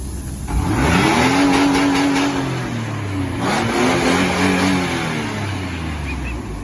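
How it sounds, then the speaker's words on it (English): A car engine revs up hard, its pitch climbing and falling twice before settling into a steady, loud idle. "Mind giving a quick rev for us?"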